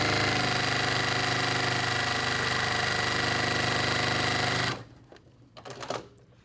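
Sewing machine stitching quilt fabric pieces joined right sides together, a steady, loud mechanical whir running continuously for about four and a half seconds, then stopping abruptly, followed by faint handling clicks and rustles.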